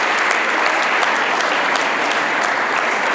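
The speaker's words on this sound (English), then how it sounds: "A big hand of applause for all of you." Dense, steady applause from a large audience greets a group of startups at an event, the sound of many hands filling the whole stretch evenly and loudly.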